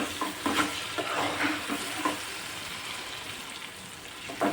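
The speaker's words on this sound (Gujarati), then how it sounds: "ટામેટાને થોડી વાર પાકવા દઈશું સરખી રીતે, એટલે ગ્રેવી જેવું થઈ જાય." Tomatoes stirred in a hot pan as they cook down into gravy for bottle gourd bharta, a steady sizzle with repeated scraping strokes of the spoon, close and clear, no talking.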